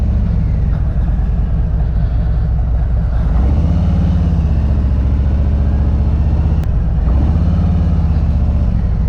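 A 2020 Harley-Davidson Road King S with Vance & Hines exhaust rumbles loudly while riding, its deep engine note steady and rising through two revving swells, heard close up from the saddle.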